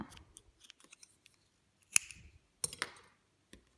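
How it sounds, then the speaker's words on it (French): Scissors cutting yarn while crocheting an amigurumi: a few quiet snips with sharp metallic clicks, close up, amid faint handling noises. "Je vais couper un peu de fil quand même."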